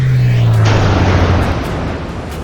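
A single heavy boom from a kamikaze strike on the aircraft carrier USS St. Louis in 1944 off Leyte, Philippines, opens loud and decays into a long rumbling roar.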